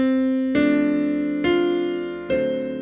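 Piano playing a tune with root-position chords in the left hand: three sustained, ringing chords struck at a slow, even pace, each left to decay before the next.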